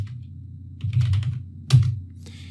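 Short bursts of keystrokes on a computer keyboard entering a terminal command, two quick clusters of clicks close by and fairly quiet, with no speech.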